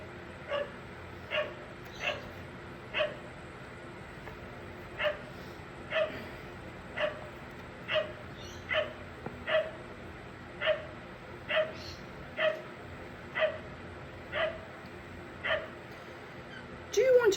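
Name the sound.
large dogs walking past outside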